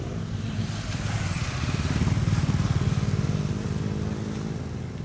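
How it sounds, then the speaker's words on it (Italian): Many motorcycles idle and rev together at the Passo Pordoi mountain pass in the Dolomites, at 2239 m altitude, a dense, steady engine rumble with throttle blips swelling and easing throughout. "Vedete quante moto che ci sono qui,"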